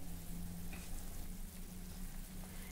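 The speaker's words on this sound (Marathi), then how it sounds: "याला छान खळखळून उकळी आली आहे" Soaked, peeled peanuts come to a rolling boil in a half-covered pot, a faint, steady bubbling hiss with a low continuous hum and no voices.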